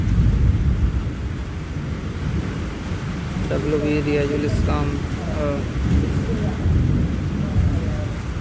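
Steady rain with rumbling thunder during a lightning storm, heard from inside a mosque; a dense, continuous wash of noise runs the whole time while someone talks over it.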